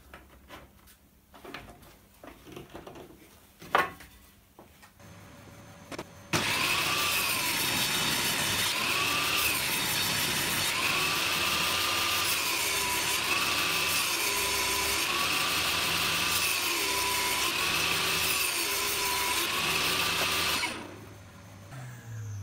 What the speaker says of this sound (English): run the piece of beech through the thicknesser just to remove